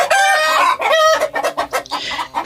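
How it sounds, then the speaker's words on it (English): A hen clucking and squawking up close, loud, in a few drawn-out calls followed by a quick run of short, choppy clucks. "H is for hen"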